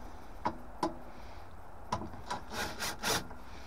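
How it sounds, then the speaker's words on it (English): Screws are undone from a bracket on the fan hood of a Main Combi HE boiler, with a few sharp clicks and then short rasping turns, close and fairly quiet with no talking. "So we have two screws here that we need to unloosen for this little bracket."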